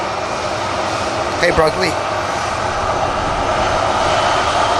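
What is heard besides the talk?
EasyJet airliner taking off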